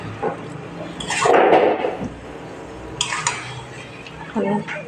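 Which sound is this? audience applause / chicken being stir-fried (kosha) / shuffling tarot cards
chicken being stir-fried (kosha)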